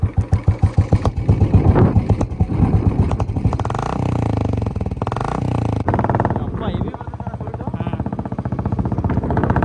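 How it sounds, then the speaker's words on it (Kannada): A motorcycle engine thumps rhythmically through its exhaust silencer at close range, loud and pulsing, then settles into a steadier idle, with a voice talking over it. "ಸೌಂಡ್ ನೋಡಿ ಹಿಂದೆ ಸೈಲೆನ್ಸರ್ ತೋರಿಸು."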